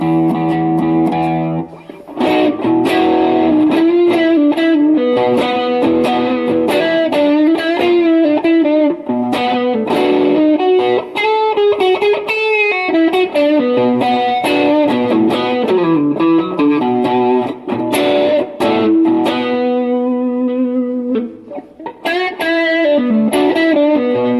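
Distorted electric guitar played through a Sluckey Deluxe Reverb Lite amp with modifications and reverb, sustained chords and melodic lines ringing continuously and loudly, with no talking.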